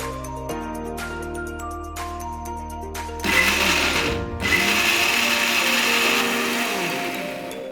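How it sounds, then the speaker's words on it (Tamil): A blender jar purees onion for restaurant-style dal makhani: a motor whine starts, then a louder, rougher grinding churn swells and keeps going, close and steady. "இதை வந்து இப்போ ஸ்மூத்தா அரைச்சிடலாம்"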